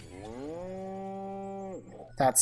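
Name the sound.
cow mooing in the video game Destroy All Humans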